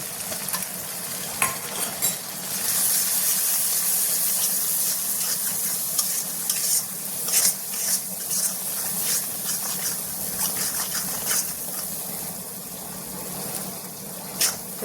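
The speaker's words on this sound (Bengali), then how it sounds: "এখন মশলাটা ভালোভাবে কষে নেব" A spice paste of ground green chilli and cumin with turmeric powder and salt sizzles steadily in a hot pan while being stirred and scraped, with frequent clinks and scrapes of the spoon over a continuous frying hiss.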